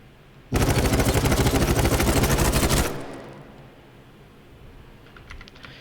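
An L86 light machine gun fires in Battlebit Remastered, one loud, dense burst of rapid automatic shots lasting about two seconds, then a fading tail and quieter game ambience.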